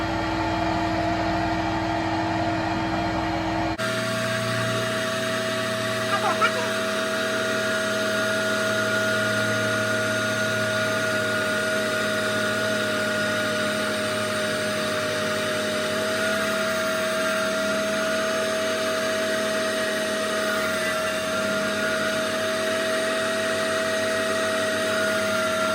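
A valve seat machine runs with the valve spinning and coolant flowing, giving a steady motor whine with a sustained tonal hum and broadband hiss that starts abruptly a few seconds in and holds evenly throughout.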